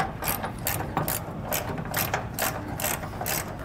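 A ratchet tightens a lock nut onto a leaf spring bolt on an enclosed trailer, giving a close, rapid series of rhythmic clicking bursts roughly every half second throughout.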